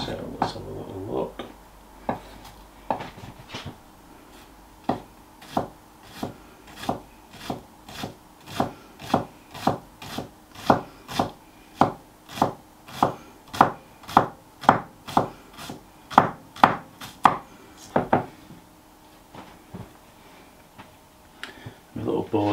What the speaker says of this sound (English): all I'm gonna do is slice in, and we're gonna see how fine we can get this onion